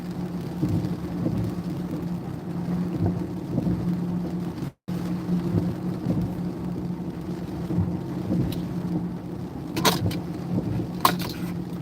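Heavy storm rain and wind roar steadily around a car during an Iowa thunderstorm with flooding, a continuous loud wash with a low hum underneath, a brief cutout midway and a few sharp bursts toward the end.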